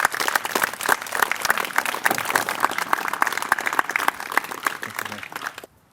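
An outdoor audience at a veterans honor walk bursts into loud, dense applause that holds steady for several seconds, then cuts off abruptly.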